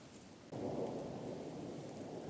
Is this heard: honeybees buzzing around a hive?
no